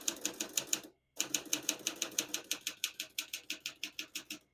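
A 1959 Smith-Corona Silent-Super portable typewriter being typed on, a steady run of crisp, close keystrokes with one short pause early on, then quick evenly spaced strikes.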